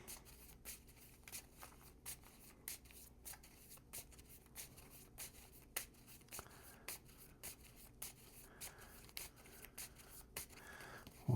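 A deck of game cards is shuffled in soft, repeated riffling and rubbing bursts, faint and close, with no talking.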